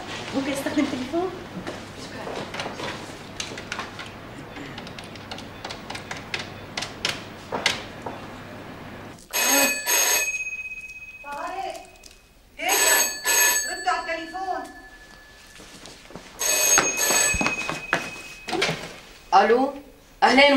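A telephone bell rings in a home setting in a Syrian comedy series, several sharp bursts of ringing in the second half, separated by short gaps, after a stretch of people talking.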